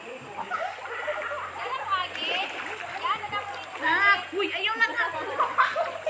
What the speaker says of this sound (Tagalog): Tinan mo, nagraragas ang tubig.